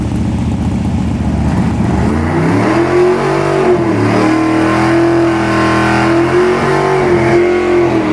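A 900 hp Chevy C10 gasser's engine revs loudly through 3.5-inch mufflers at a drag strip, a deep, rough idle rising into sustained throttle with rhythmic pitch swells, close and alone without talk.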